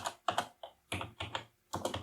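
Keys on a computer keyboard clack in short irregular bursts as a terminal command is typed, close and fairly quiet, with brief pauses between clusters of strokes and no talking.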